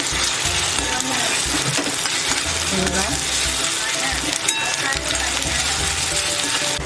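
Chopped onion with a spoonful of ginger-garlic paste fries on low heat for pav bhaji, a steady sizzle running throughout with a spatula scraping and stirring in the pan, close and continuous, with a few faint clinks.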